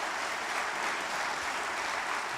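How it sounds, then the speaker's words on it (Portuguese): A church congregation applauds together, a steady, dense wash of clapping heard from some distance at moderate level with no talk over it. "Vamos aplaudir Jesus"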